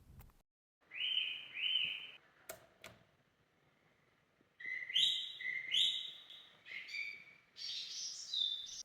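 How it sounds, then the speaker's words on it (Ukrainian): Birds chirping and trilling in bright, repeated bursts outdoors in the wild near a lighthouse, a short call first, then a livelier stretch of overlapping song after a quiet pause. "А тепер давайте трошки послухаємо пташок."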